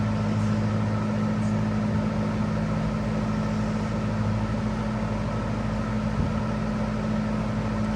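A Dominion and Holmes box fan runs on its high setting, giving a constant, steady whirring hum of moving air with a low motor drone, uninterrupted for several seconds.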